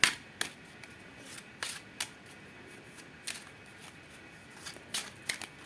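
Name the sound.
shuffling tarot cards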